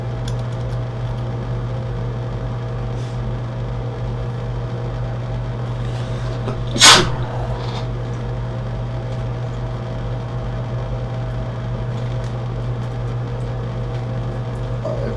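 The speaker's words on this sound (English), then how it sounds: "my fume extractor filter is all nasty, so every time I turn it on" A fume extractor fan on an electronics repair bench with a dirty filter hums continuously and steadily at a close, even level, with one brief sharp knock or click partway through and no talking.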